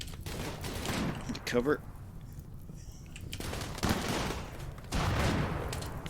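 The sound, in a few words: gunfire in Rimworld video game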